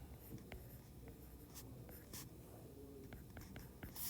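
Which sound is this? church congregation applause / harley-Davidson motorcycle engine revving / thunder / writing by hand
writing by hand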